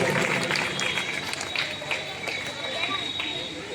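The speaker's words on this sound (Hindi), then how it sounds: "तालियां नहीं बजाएंगे तो बजवा लेंगे।" Applause at a school annual celebration, a sustained wash of clapping from a crowd, moderately loud and even throughout, with some voices mixed in.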